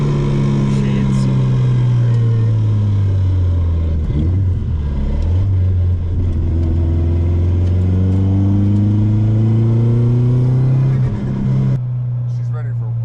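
A Subaru WRX with a 5-speed gearbox revs hard and loudly, its engine note climbing and falling in sweeping waves for most of the stretch before dropping to a steady idle near the end.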